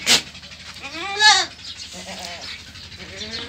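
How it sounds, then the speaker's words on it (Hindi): Goats at a goat farm bleat loudly and close by, with a sharp cry at the start and a long wavering bleat in the middle, followed by softer bleats and animal noises. "यहां पर एक गोट फार्म है जो मैं घूमने आया हूं और ये बकरियां हैं।"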